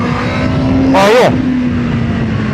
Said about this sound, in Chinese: 全油出弯。